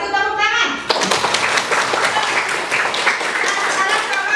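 A class of schoolchildren claps for a dance group in a classroom, a burst of applause that starts after a moment of voices and continues steadily and close, mixed with chatter.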